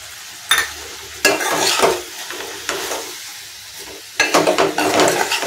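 Chili powder and turmeric are stirred into a sizzling frying pan, a spoon scraping the metal in a few irregular bursts over steady frying hiss, close and loud with no voices.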